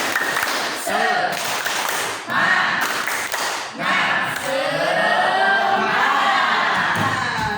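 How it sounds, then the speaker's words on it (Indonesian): Eleventh-grade social studies class at a senior high school performs the patterned 'tepuk semangat' spirit clap, with rhythmic bursts of group clapping and thumps alternating with students' chanting and shouting voices, loud and close throughout. "Ya, tepuk semangat."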